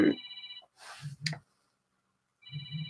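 A telephone rings in a room, a repeated electronic bell tone sounding in two bursts separated by a pause, each followed by soft low thumps, with a voice heard briefly at the start.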